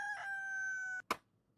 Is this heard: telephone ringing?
no